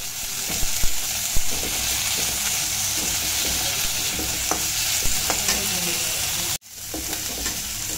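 Vegetables with green peas fry and get stirred in a pan for veg biryani, a steady sizzle broken by scattered spoon scrapes and clinks, with a brief drop to near silence shortly before the end.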